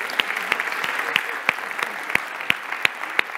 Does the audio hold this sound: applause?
yes